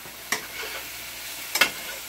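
Garlic, both fresh cut cloves and garlic salt, sizzles with chicken and mushrooms in a pan: a steady frying hiss broken by two sharp scraping stirs, with no voices.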